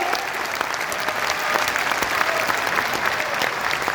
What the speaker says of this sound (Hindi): बहुत सारी तालियां एक बार फिर से होनी चाहिए श्री भगवंत मान जी के लिए।